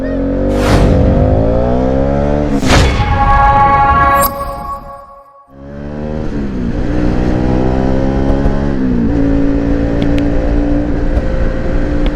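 A car pulls up close by with loud engine revving, the pitch rising and falling through several surges, then a brief lull before the motor swells again and settles into a steady hum.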